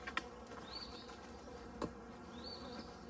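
Agitated honey bees buzz around an opened hive while it is being split, a steady close swarm drone with a few knocks and bumps of hive equipment.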